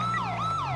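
A police vehicle's siren wails in a steady rising and falling sweep, loud and close, running the whole moment with a low engine rumble beneath it.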